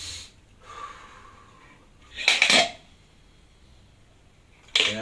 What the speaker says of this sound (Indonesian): Jadi ambil napas dari hidung, buang napas dari mulut.